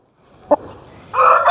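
A short cluck, then the start of a loud crow from a black-necked native rooster close by, cut off abruptly.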